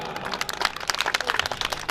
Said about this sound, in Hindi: तालियों के साथ अभिवादन होना चाहिए साहब